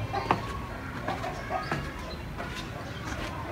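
A pair of pigeons, a gola male and a kabli female, cooing softly in low, murmuring bursts with a few brief fluttering sounds, heard fairly close in a quiet indoor space; no talking.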